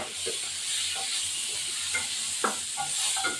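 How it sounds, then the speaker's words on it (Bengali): Bata fish frying in a pan with potato and tomato: a steady close-up sizzle and hiss, broken by occasional clinks and scrapes of stirring, with no voices. "ভাজা ভাজা হয়ে এই বাটা মাছ বাটা মাছটা ভাজা হয়েছে"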